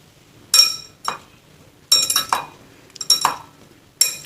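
A spoon clinks and scrapes against a bowl in short, separated bursts while apple chaat is mixed with mint leaves, close and crisp with quiet pauses between strokes.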